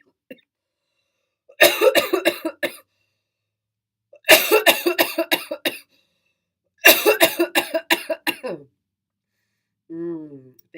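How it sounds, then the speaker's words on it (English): Three loud fits of rapid, harsh coughing, each lasting about a second and separated by silence, ending with a brief vocal sound. "I just had a cough."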